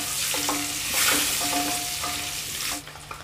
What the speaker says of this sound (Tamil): அந்த எண்ணெயிலே கொஞ்சம் நேரம் வேகட்டும், அந்த மசாலா பிடிச்சி அந்த முட்டை கொஞ்சம் நேரம் இருக்கட்டும்.